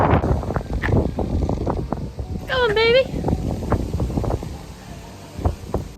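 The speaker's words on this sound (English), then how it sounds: "Ooh, it's windy." Strong gusts at the Eden Project in Cornwall buffet the microphone with heavy low rumbling, while a person speaks briefly through the wind noise.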